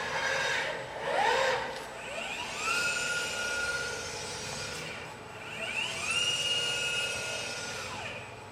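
A Kawasaki RS010L industrial robot arm moves its joints in a shop, with rising and falling servo whines in several separate sweeps, moderately loud and close, with no voices.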